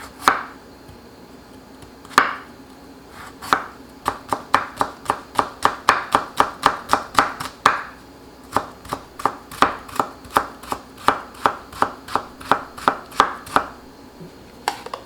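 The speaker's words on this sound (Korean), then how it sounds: "칼로 쓰는 게 훨씬 좋아서 지금 칼질을 하거든요" A knife chops carrots steadily on a cutting board, dozens of quick, crisp strokes in a fast, even rhythm, close by with no talking.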